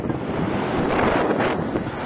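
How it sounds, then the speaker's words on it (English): Strong wind roars steadily across the microphone at a beach, a dense continuous rumble with surf mixed in and no voices. "So it's extremely windy"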